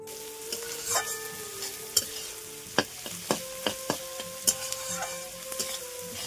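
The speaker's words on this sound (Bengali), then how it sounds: "এখন দেখো শেষবেলায় চিকেনটা রান্না করছি" Chicken frying in a pan with potatoes already browned, a steady soft sizzle under repeated sharp scrapes and knocks of a spoon stirring, spaced every half second or so, close and fairly quiet, with no voices.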